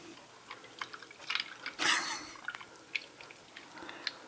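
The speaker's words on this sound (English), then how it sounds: "So I pour it over the cherries." A Scotch whisky cocktail mixture is poured over three cherries in a glass, giving a short liquid splash amid light clinks and drips, close and fairly quiet.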